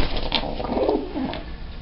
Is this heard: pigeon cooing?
yes